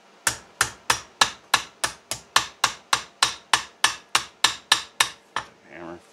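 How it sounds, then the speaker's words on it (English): Sixteen sharp, evenly spaced hammer taps ring off a metal panel in a steady rhythm, followed by a brief voice at the end. "take a hammer."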